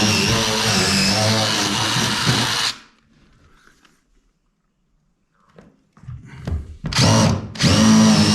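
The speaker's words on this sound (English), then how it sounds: "I'm going to drill my 5/8 holes and pray that this doesn't hit the other side of that floor joist" A power drill bores 5/8-inch holes into a wooden floor joist under a tiny off-grid cabin. It whines loudly and steadily, cuts out into a few seconds of quiet, then starts again in short bursts before running at full speed.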